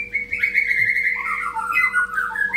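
A black-tailed white-rumped shama (murai batu) sings close and loud, a run of clear, bright whistled phrases that slide and warble without pause, with no other sound around it.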